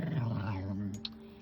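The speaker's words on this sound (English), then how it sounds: "that's my dogs making this crazy ass noise" Two jealous dogs growl together in a low, rumbling, sustained drone up close, with a brief sharp yelp or click near the end.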